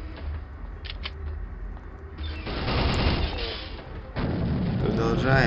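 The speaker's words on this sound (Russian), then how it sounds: "что-то где-то взрывается бесконечно" Explosions in the video game Soldier of Fortune keep booming one after another, with a thinner first stretch followed by two surges of dense, crackling blast noise that swell louder toward the end.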